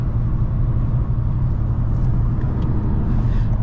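A super old Toyota Corolla rental car drives in Toronto, giving a steady, loud interior road rumble and engine drone with no variation throughout.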